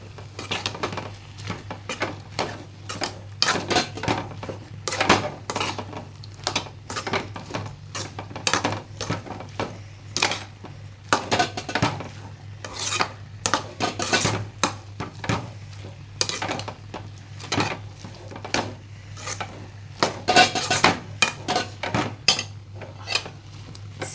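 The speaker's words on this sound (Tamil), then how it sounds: "இப்போ நான் சாதத்தில் இதை எடுத்து பெரட்டி போட போகிறேன்." A spoon or spatula repeatedly scrapes and clinks against a pan while fried egg is stirred into cooked rice for egg fried rice, an uneven run of close knocks and scrapes over a low steady hum, with no talking.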